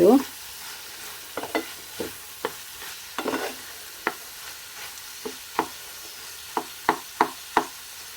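Unripe tomatoes cooking in a pan for tomato gojju, a soft sizzle broken by a series of sharp spoon scrapes and knocks against the pan, spaced irregularly and getting quicker toward the end, close and without talk.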